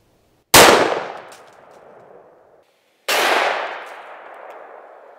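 Two loud, sharp shots from a Desert Eagle .44 Magnum pistol fired at an expired police body armor vest outdoors, each a sudden crack with a long, fading ringing decay, about two and a half seconds apart.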